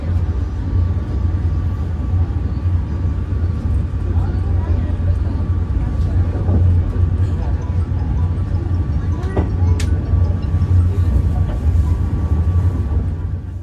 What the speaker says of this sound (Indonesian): baru saja perjalanan kereta api Cukurai berangkat dari stasiun Bandung